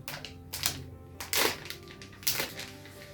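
Plastic snack packet of squid seafood snack torn open by hand, giving a few sharp crinkly rips and crackles in short bursts, close and fairly quiet.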